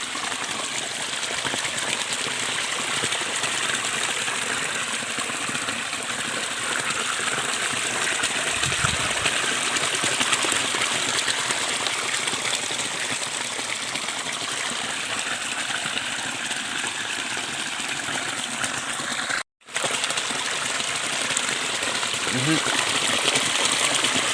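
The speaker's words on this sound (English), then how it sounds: "How is the feeling of the sound of water, man?" Water gushing and streaming steadily near a village in Nyabohanse, a loud, continuous broadband rush that holds unbroken for the whole stretch apart from one momentary dropout.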